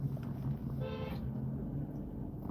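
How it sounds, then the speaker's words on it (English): A single short car horn toot sounds faintly in the distance over a low hum of traffic and engine rumble. "What's that guy honking at?"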